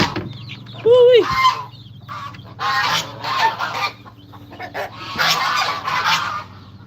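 Backyard coop chickens on a hot morning cluck and squawk near the listener in irregular bursts, with one louder rising call early on, all over a low steady background hum and no talking.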